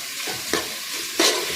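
Tomatoes fry in a pan for vegetable biryani, a steady hiss of sizzling oil broken by two brief scraping stirs of a spoon, close and with no talking.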